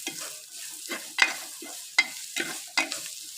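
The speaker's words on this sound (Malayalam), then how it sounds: "ആവശ്യത്തിലുള്ള മല്ലിപ്പൊടി അല്പം, മുളക് പൊടി അല്പം, മഞ്ഞൾപ്പൊടി അല്പം ഇട്ട് നല്ലപോലെ മിക്സ് ചെയ്യുക." Ground coriander, chili and turmeric powder being stirred into hot oil in a pan, heard as a run of close, distinct spoon scrapes with faint frying between strokes and no talking.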